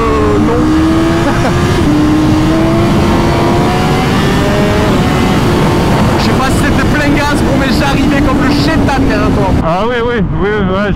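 Moto Morini 1200 Corsaro ZT motorcycle engine running loud and steady, its pitch wavering as it rides, with sharper exhaust bursts and crackles near the end while voices talk over it.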